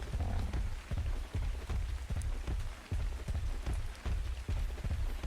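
Rain falls in the dinosaur survival game Ark, a constant patter on surfaces with soft repeating low thumps that sound like footsteps running through the downpour. No voices are present.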